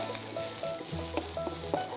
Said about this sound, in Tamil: ஸோ இந்த வெங்காயம் கூட நல்லா சாட் ஆகணும்